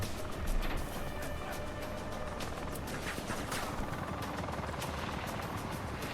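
A burning helicopter in the military VR shooter Falcon Fall VR gives a steady, loud rotor roar and engine drone, with crackling noise throughout and no speech over it.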